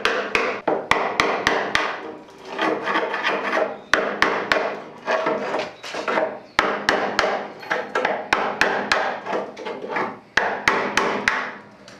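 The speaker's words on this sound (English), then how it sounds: "That's hardened steel cutting through aluminium." A hardened steel Stanley chisel is driven through aluminium on a Land Rover Series 3 restoration, sharp hammer blows landing in quick clusters of three or four, each followed by grinding metal scraping, close and loud with no talking.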